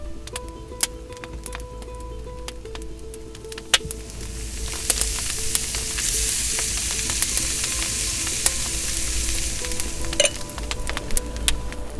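Meatballs sizzling in a wood-fired oven, a steady crackle and hiss with occasional sharp ticks and clinks, growing denser and louder partway through.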